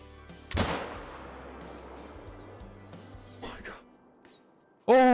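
A single close, loud rifle shot cracks out while hunting a Bengal tiger in Call of the Wild, then echoes and fades over quiet ambience before an excited voice breaks in near the end.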